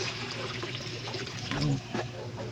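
Water poured into a pan while cooking pork pancit, a splashing, gurgling pour with a louder surge midway, heard close in a kitchen.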